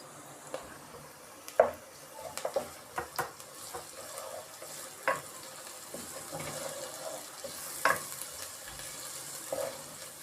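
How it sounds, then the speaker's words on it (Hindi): Soft sizzling of garlic-ginger paste frying with onions in a pan, with scattered stirring clinks and scrapes from a utensil, close by and intermittent, with faint kitchen water sounds. "लहसुन अदरक प्याज के साथ 2-1 मिनट फ्राई हो जाएं"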